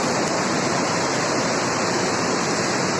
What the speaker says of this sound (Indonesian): inilah keadaan banjir saat ini